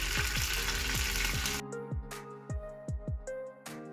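Eggplant fries in a pan with a dense crackling sizzle that cuts off midway, leaving a handful of clinking stirs and scrapes against the pan.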